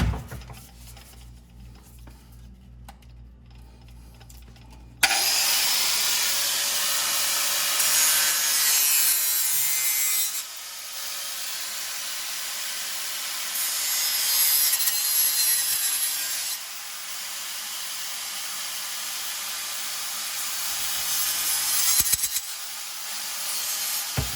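A handsaw cuts through a plastic drain pipe during a garbage disposal installation, a loud close rasping stroke that runs steadily for about twenty seconds after a quieter start, with no talking.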